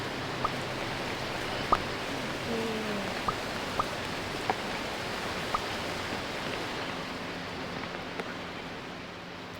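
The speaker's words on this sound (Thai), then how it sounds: "ระหว่างรอฝนหยุดนะครับแล้วก็ลงไปเลย" Video-game rain in Mini World falls as a steady, even hiss with a few scattered drop ticks, moderately quiet and heard on its own.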